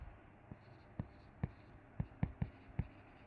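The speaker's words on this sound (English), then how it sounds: "So let's write here cesium." Pen taps and short scratches of handwriting come in a loose, irregular rhythm, close and quiet against a faint room hiss, with no voices.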